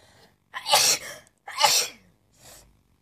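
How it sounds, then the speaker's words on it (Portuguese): Two strong, close sneezes in quick succession, each a sharp burst, followed by a fainter breathy exhale. "Ai, vontade de espirrar,"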